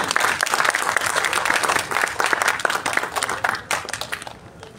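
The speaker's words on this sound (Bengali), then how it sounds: "করতালি কই?" A theatre audience at an evening stage event in Kolkata applauds loudly and steadily, the dense clapping swelling briefly and then thinning toward the end.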